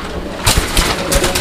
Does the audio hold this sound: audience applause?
no